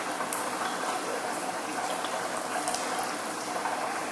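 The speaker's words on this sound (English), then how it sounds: "what I'm going to do is remove some of the water from the big tank" Water taken from a large fish tank holding sea trout is poured into a bucket in a steady, continuous rushing splash that stays close and loud for the whole stretch, with no voices.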